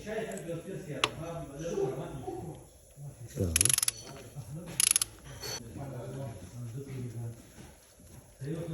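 A ratchet loosens the crankshaft pulley bolt on a Volkswagen Scirocco 90 kW engine during timing chain work, with two sharp bursts of clicking in a workshop while someone talks throughout.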